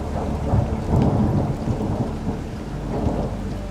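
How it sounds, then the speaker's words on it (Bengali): Cartoon-style thunderstorm on a rainy night near a railway station: heavy, steady rain with deep rumbling thunder rolling underneath, continuous and fairly loud throughout. "একটু পরেই বজ্রবিদ্যুৎ সহ মুষলধারের বৃষ্টি শুরু হলো।"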